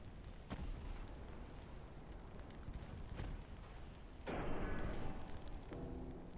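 Torpedoes launch from a warship in the naval game Ultimate Admiral: Dreadnoughts, heard as a few muffled thumps over a rumbling sea-and-engine bed, then a louder rushing burst near the end.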